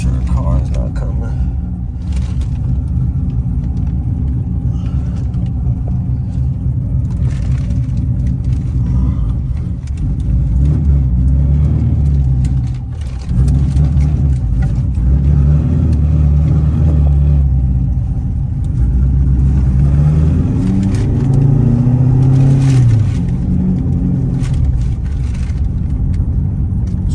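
A Corvette engine with an LS7 V8 hums steadily while driving along a road, low and continuous, with a few rising and falling engine tones and talking heard intermittently.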